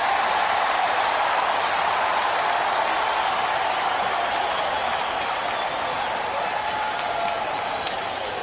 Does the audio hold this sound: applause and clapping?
yes